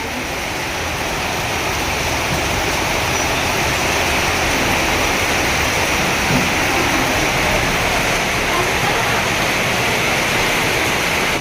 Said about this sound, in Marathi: जोराचा पाऊस आलाय बघा तुम्ही